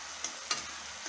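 Pangash fish heads frying in hot spiced oil, a faint steady sizzle with a couple of brief crackles and stirring clicks, no voices.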